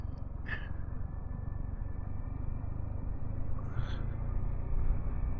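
A Yamaha R15M motorcycle engine held in second gear on a hill road, a steady close drone with the revs gradually climbing, brief higher whines surfacing partway through.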